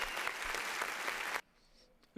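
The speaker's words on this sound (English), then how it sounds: "Give that man a round of applause." Audience applause on a karaoke show, a steady, full burst of clapping for over a second that stops abruptly into quiet.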